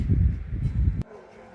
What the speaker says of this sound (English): barking, howling all night long